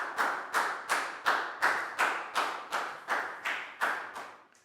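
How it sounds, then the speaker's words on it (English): A school class applauds a student in a Year 4 maths lesson, about eleven evenly spaced loud claps in a steady rhythm, close and clear with no talk. "Big round of applause for Prau"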